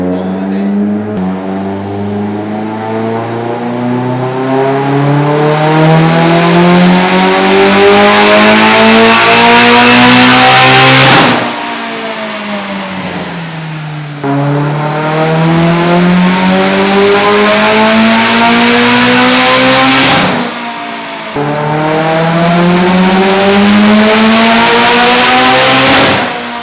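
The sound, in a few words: Mitsubishi Evo X with twin scroll turbo on dyno pull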